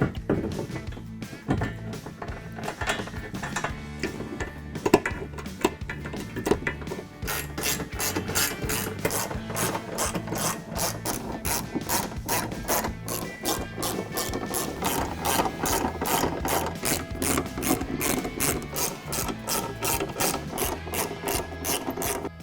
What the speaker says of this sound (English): we're going to install those using a 13mm socket